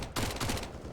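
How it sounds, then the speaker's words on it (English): A MAC-10 submachine gun fires a rapid burst in Counter-Strike: Global Offensive on the Mirage map, two tight clusters of automatic shots cracking close and loud. "Good burst from the MAC-10."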